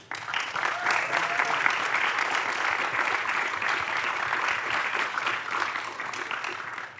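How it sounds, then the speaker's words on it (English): An audience at an international competition film screening Q&A applauds the directors and actors, dense sustained clapping filling the room evenly for the whole stretch without letting up. "Please give a round of applause to the directors Elsa Kremser and Levin"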